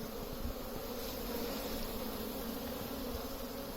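Honeybees flying around their hives in late November on a mild day in a sheltered yard, a dense, continuous buzzing hum that holds steady throughout, with no voices.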